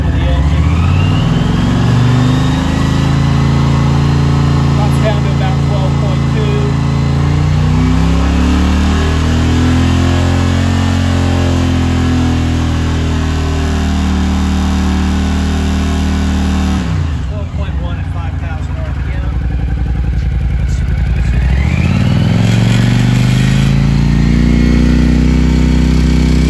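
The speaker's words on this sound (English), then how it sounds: "even if we increase the RPM of the engine" A Honda CX500TC motorcycle engine idles close by, then revs up and back down several times, its pitch rising and falling with each burst.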